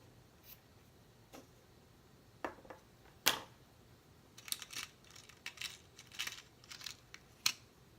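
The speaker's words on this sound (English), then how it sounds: "So I'm just going to cut a piece of twine." Scissors cut a piece of vanilla twine at a card-making desk, making faint, sparse snips and small clicks scattered across a quiet background, with a busier cluster toward the end.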